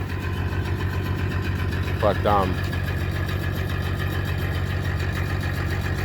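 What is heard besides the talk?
generator running on a large canal boat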